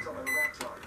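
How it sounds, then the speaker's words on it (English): A microwave oven button gives a short electronic beep, a single clear tone followed by a softer click, near and brief. "I gotta click the button"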